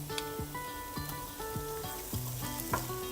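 Chopped half onion and two cloves of minced garlic sautéing in a pan, a steady close sizzle with intermittent stirring and clinking of a utensil against the pan, no voices.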